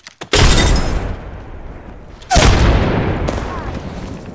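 Two heavy booming explosions from frag grenades in Apex Legends, each a sudden loud blast with a long rumbling decay, the second about two seconds after the first.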